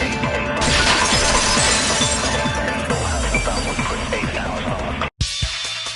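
A vase shattering in the Danganronpa 2 video game, a loud burst of breaking glassy fragments and tinkling debris that scatters for several seconds before cutting off abruptly.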